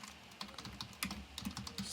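Someone types a short name on a computer keyboard, with quick, light keystrokes in an irregular rhythm. The clicks are close but quiet, with no talk.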